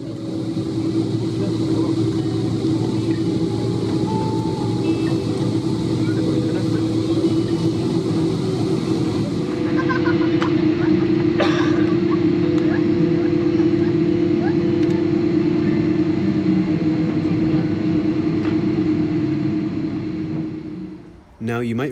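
A Turkish Airlines A330-200 taxis in to the gate, its engines holding a steady droning hum with a sustained tonal whine, and the noise winds down near the end.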